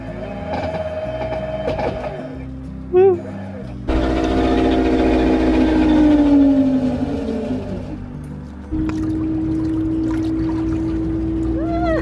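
A budget sailboat's 3D-printed electric motor conversion runs with a steady mechanical hum. The hum shifts in pitch as the motor speeds up and then settles, and it stays loud and close throughout.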